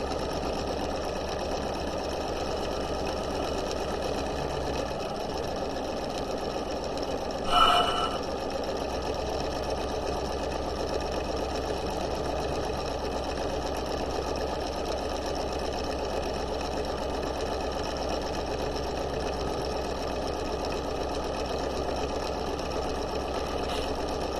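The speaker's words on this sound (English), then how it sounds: "Back stitch and sew at 5/8 of an inch" A sewing machine runs continuously for a long stretch, stitching the crotch seam of pajama pants in the round at a 5/8 inch allowance, a steady even hum with one brief clack partway through.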